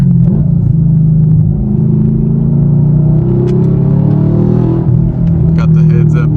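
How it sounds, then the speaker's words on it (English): Rising and falling engine tones come from a Chevrolet Camaro SS 1LE as it blips the throttle for a rev-matched downshift, its loud V8 rumble heard from inside the car with a quick rev flare near the end. "Rev match right here."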